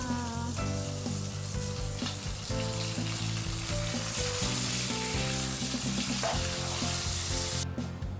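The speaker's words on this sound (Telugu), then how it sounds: "మిగతా రెండు చేపలను కూడా ఇప్పుడు ఫ్రై చేసేసుకుంటున్నా" Fish frying in a pan of hot oil, with a steady, dense sizzle running throughout, partly overlaid by tonal music.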